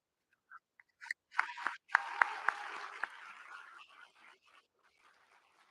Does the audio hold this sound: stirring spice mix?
no